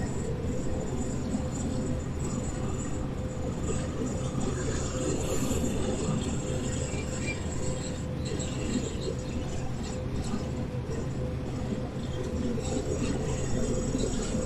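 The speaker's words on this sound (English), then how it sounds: "Okay, so another train is going." A freight train rolls past in the Cajon Pass in Train Sim World 3 during a snowstorm, a continuous low rumble of wheels and engines holding steady for the whole stretch at moderate loudness.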